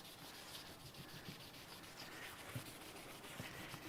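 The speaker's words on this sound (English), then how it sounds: "You can kind of hear how that sandpaper is working against that hub." Sandpaper worked by hand against a Honda motorcycle wheel hub, heard as a steady, close rasping rub with faint rhythmic strokes, quiet and alone.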